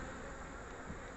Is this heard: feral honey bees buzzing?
yes